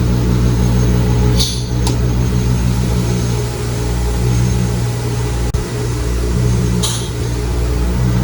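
A shot blast machine's bottom blast wheel runs with a loud, steady mechanical roar and low hum, interrupted by a few brief hissing bursts.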